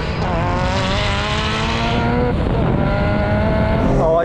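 A Nissan S15 Silvia and a BMW M3 Competition accelerate hard side by side from 30 mph in second gear in a drag race, engines roaring loudly and climbing in pitch, with a brief tyre squeal.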